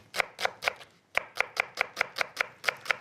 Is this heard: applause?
no